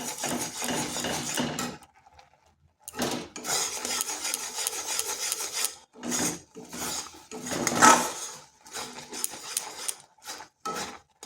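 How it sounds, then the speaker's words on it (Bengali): Sugar being stirred into malai in a pan, a spoon scraping and rubbing against the metal in repeated rasping strokes with brief pauses, close and fairly loud, no talk. "এরপর চিনিটা এই মালাইয়ের সাথে ভালোভাবে মিশিয়ে নিচ্ছি"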